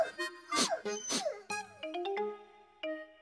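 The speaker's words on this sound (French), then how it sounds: "Un adorable petit chien brun." A small brown cartoon puppy yipping and whimpering in a series of short, bright, high-pitched yelps, some sliding upward, spaced across a few seconds with nothing behind them.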